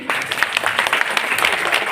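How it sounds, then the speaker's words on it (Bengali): An audience clapping at a book publisher's launch gathering at the national museum in Dhaka, steady sustained applause from many hands, fairly close, with a voice speaking briefly over it. "আমরা একটু জোরে করতালি দেই"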